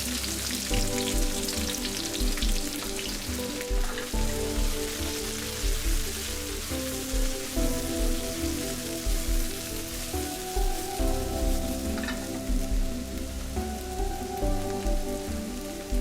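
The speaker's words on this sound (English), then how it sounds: "Add the vegetables and cook with stirring." Vegetables fry in oil in a pan with a continuous crackling sizzle, close and moderately loud, plus occasional faint stirring scrapes and no voices.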